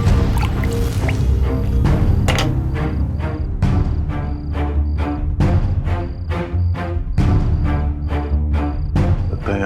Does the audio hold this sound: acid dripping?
yes